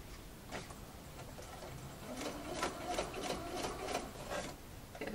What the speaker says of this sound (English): Take my pins out as I sew, make sure it's in the crease of the actual bias binding.